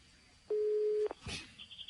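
A telephone on a call gives a single clean ring tone of about half a second during a radio broadcast, followed by a brief rustle and faint noise.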